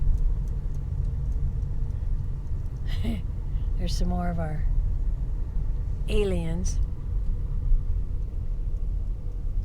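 Busy street traffic in Ruidoso, New Mexico, a steady low rumble of passing cars and engines that runs constantly, with people talking briefly over it.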